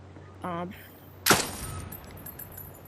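A single sharp, loud gunshot from a gun in the sandbox video game Beyond cracks out with a quick decaying tail, preceded by a brief voiced sound and a faint steady hum.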